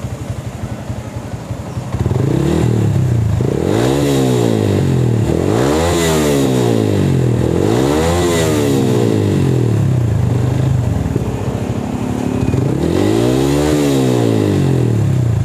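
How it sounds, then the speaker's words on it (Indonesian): Honda MX King motorcycle with a rebuilt aftermarket exhaust, revved hard in repeated rising-and-falling blips, loud and close with a rasping tone, no talking. "Kita tes RPM-nya bro."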